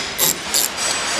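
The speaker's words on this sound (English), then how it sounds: "Using a 12 millimeter, I'm just gonna loosen and remove these two caliper slide pin bolts." A 12 mm wrench turns the caliper slide pin bolts on a 2005 Honda Accord's front brake, giving two short, close scraping ratchet rasps and then a softer rub.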